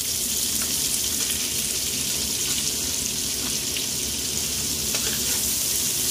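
Chopped onions fry with rice in a pan for fish murighonto, a steady, dense sizzle and crackle close up that continues without a break.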